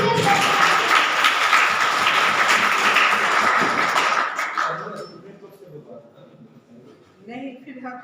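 Applause fills a university Youth Day event in an economics and management department, dense and sustained for about four seconds before fading into quieter room sound with a few scattered claps and a voice near the end.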